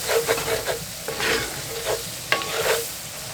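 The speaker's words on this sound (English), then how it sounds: "You got to cook that flour out, that flour taste out, so that's what I'm doing." A flour roux sizzles in a pot for an oxtail stew while a spoon scrapes and stirs it in quick uneven strokes, close and clear with no talking.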